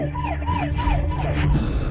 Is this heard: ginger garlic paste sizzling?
no